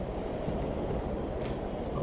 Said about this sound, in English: Oh, a train.